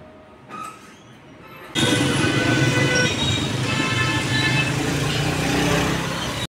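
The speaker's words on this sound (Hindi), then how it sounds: "लेकिन आज तो ऑरेंज ट्रेन में बैठने लगा हूँ" A Lahore Orange Line metro train runs with a steady, loud broadband rumble and rush that starts abruptly and continues evenly throughout, after a quieter opening.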